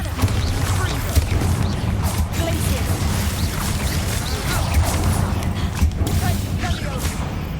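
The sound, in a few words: Bombarda blasting spell in the video game Hogwarts Legacy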